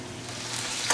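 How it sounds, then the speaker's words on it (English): Dense, steady hiss and crackle of chicken frying in hot oil for a stir-fry, close and constant, with a slight bright spatter near the end. "We're going to start by frying some of our chicken"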